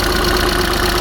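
A VW Polo engine runs at a steady idle, a close, loud and even mechanical drone with a faint rhythmic pulse, heard alone without talk.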